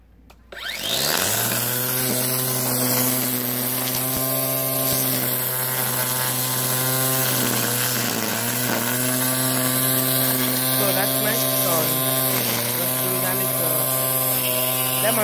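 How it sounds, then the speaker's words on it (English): A Black and Decker cordless string trimmer on speed 4 whirs at a loud, steady high pitch as it cuts through thick, rain-fed overgrowth, starting abruptly and holding its buzzing tone close by. "let's see how the trimmer does on a speed 4 doing this kind of overgrowth."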